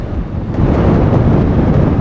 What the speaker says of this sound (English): not only is it incredibly windy, it's now raining too